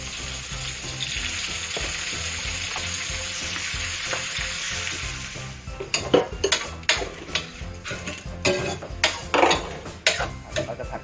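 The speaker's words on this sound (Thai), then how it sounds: "ใส่พริกกับกระเทียมที่เราโขลกมาเมื่อกี้นะครับ ใส่เลยครับ เดี๋ยวพริกกระเทียมให้หอมครับ แล้วก็ กุ้งปลาหมึกหอยนะครับ" Shrimp, squid and shellfish stir-fry in a hot pan with pounded chili and garlic. A loud, continuous sizzle gives way to sharp, irregular clanks of a utensil stirring against the pan.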